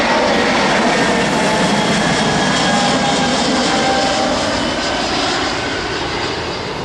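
Airbus A320 and A320neo airliners at a London airport give a loud, continuous jet-engine roar, steady and close throughout with no pauses.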